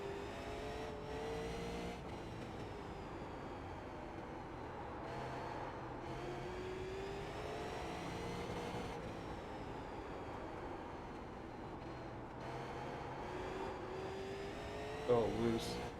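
Legends race car in iRacing under throttle, its engine note rising and falling steadily through gear changes across the whole stretch, with a voice talking over it.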